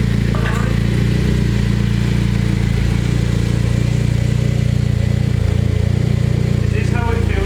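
BMW E30 drift build car with its engine running as it pulls away, a steady mid-pitched engine drone with low rumble throughout, close and fairly loud, with voices faintly in the background.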